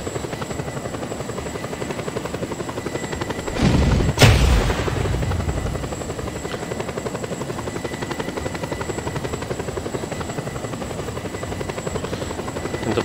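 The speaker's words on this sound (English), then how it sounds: "And the helicopter is jittering." A helicopter in the video game Just Cause 2 drones steadily with a loud, continuous rotor hum, broken a few seconds in by one sharp boom.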